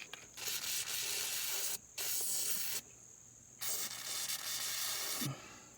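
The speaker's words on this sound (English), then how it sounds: "spray some of this in there." Aerosol is sprayed onto the frame nuts of a 2000 Dodge Neon in three long, loud, close hissing bursts separated by short pauses.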